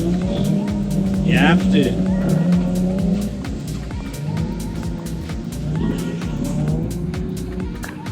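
Volvo cars run on a slippery track, engines droning loudly with a sharp tire squeal around the second mark and steady motor noise throughout, while a person talks over it.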